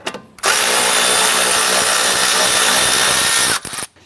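A power tool drives a bolt off a vehicle bracket in one loud, steady whirring burst of about three seconds, close up, starting and stopping abruptly.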